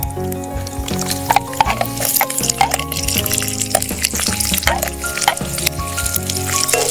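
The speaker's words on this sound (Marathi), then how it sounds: "कांदा छान परतून घ्यायचा." Finely chopped onion sautéing in hot oil in a kadhai for a dal palak tempering, with a steady sizzle and occasional clinks of stirring throughout, close and fairly loud.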